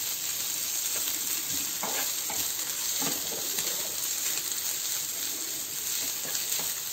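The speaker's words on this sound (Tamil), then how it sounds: "இப்போ நல்ல ஃப்ரை ஆயிருக்கு." Pomfret fish frying on a tawa, a steady, close sizzle with light crackling and spattering pops throughout, heard alone with no voices.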